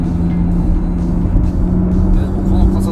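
A 500-horsepower circuit-spec Nissan Fairlady Z NISMO RZ34 accelerates hard from about 4000 rpm, heard from inside as a loud, steady engine drone with a strong low hum while occupants talk over it.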